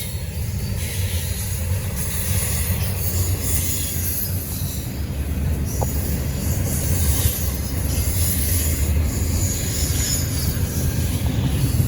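A Norfolk Southern freight train rolls past close by, held back by a broken knuckle, with a loud continuous rumble of wheels and cars and faint squeals, steady throughout.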